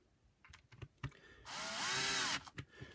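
A power driver runs a T10 Torx screw into a Shark Lift-Away NV602UK power nozzle during reassembly, one steady whirring burst of about a second, close and fairly loud, framed by small clicks and handling sounds.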